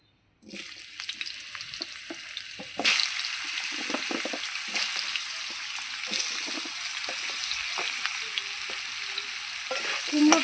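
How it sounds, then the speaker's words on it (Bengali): Pumpkin pieces frying in hot oil in a wok in a home kitchen, a steady close sizzle that jumps louder a few seconds in and holds with faint crackles throughout. "এটার কড়াইয়ের মধ্যে তেল দিয়ে দেবো আর একটু দিয়ে আমি কুমড়োটা ভেজে নেবো"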